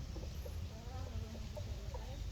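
A Texas Sweeter gamefowl hen clucks softly in short, scattered bursts, fairly faint over a low rumbling background. No one speaks.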